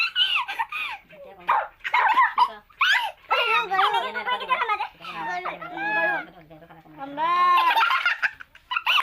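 A person imitates a dog with a run of barks, yelps and whimpering whines, close and loud, with a few spoken sounds mixed in.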